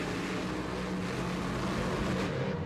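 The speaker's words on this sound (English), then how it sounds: "Both drivers with the alcohol engines letting a little bit of time, getting time on the engine, get some heat in them." Alcohol-fueled mud racing engines at a 1995 NMRO event in Lima, Ohio, idle and rev in a dense, loud, rumbling drone that holds steady throughout with no talking.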